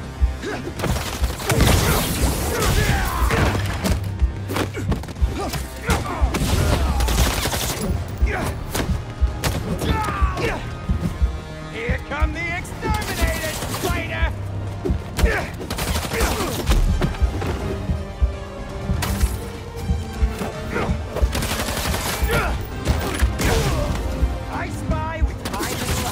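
Fireworks go off in the Marvel's Spider-Man 2 video game as a dense barrage of booms, crackling bursts and thuds inside a loud, busy game soundtrack, with voices talking throughout.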